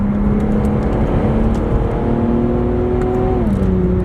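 An Infiniti Q60 Red Sport engine pulls steadily after a shift into fourth gear, a loud rising drone heard from inside the car with a brief drop in pitch near the end.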